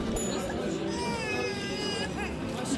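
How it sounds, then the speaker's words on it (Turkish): A baby who has just woken from sleep cries and whimpers continuously during an outing on the Istanbul seaside, with faint voices and outdoor bustle in the background. "Ağlama krizlerine girdi birileri."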